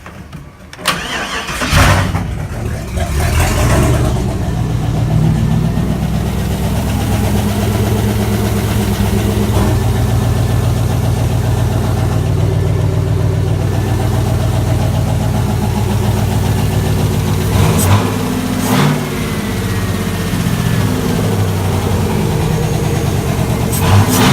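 A Studebaker pickup rat rod running on speed-density fuel control cranks and fires, then settles into a loud, close, steady rumbling run that continues throughout.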